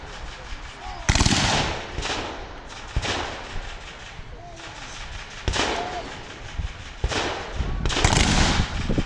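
Zulu War era rifles fired at a reenactment display, sounding as loud sharp volleys and scattered single shots cracking out at irregular intervals, with a crowd murmuring underneath between the reports.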